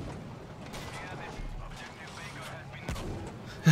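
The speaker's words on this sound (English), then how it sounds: "Oh, he is shooting at me." Gunfire in the Battlefield 5 video game on Wake Island, with an LVT firing nearby: a steady low rumble of distant shots and mechanical clatter, with a louder burst near the end and no talk.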